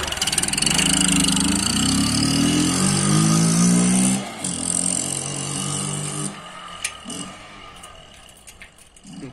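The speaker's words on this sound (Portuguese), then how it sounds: "primeira saída da moto" A Honda Titan 125 motorcycle fitted with a 150 carburetor rumbles loudly at close range on its first ride, its engine note rising and falling before easing into a quieter idle with a few clicks.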